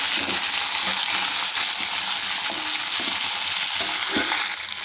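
Capsicum, carrot, green chili and beans stir-fry in a pan, a dense continuous sizzle with occasional scraping and tossing sounds, loud and close throughout without talk.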